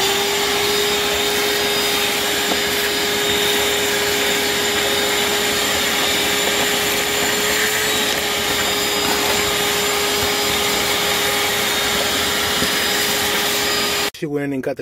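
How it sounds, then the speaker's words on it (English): A small shop vac runs steadily while cleaning up during a fuel pump replacement on a 2002 Honda Civic, a loud, continuous whining drone that holds level for about fourteen seconds before it is switched off. "let me go get my shop vac. And clean this up"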